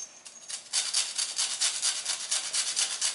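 Lime zest being grated for a pineapple and mascarpone dessert, a close rhythmic scraping of quick strokes that starts softly and then grows steady.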